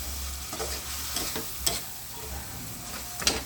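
Shrimp paste (alamang) with kamias and oyster sauce is stirred in a pan, a steady soft sizzle with spoon scrapes and a couple of sharper clinks, close and alone.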